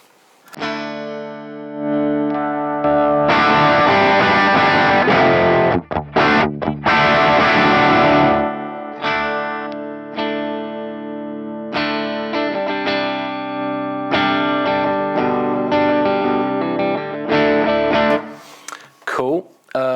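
Distorted electric guitar played through a Fractal amp modeler with moderate gain, loud and close, with sustained chords and bursts of riffing, brief pauses between phrases, and a few quiet gaps.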